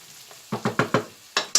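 Spicy lamb sausages frying in a fry pan, heard as a series of distinct sizzling bursts, about six sharp hisses in uneven rhythm, close and fairly loud.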